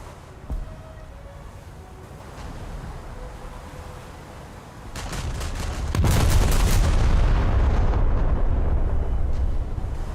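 Heavy naval guns from HMS Barham boom in World of Warships, a deep blast landing about six seconds in and rolling into a loud sustained rumble after quieter engine and ambient noise.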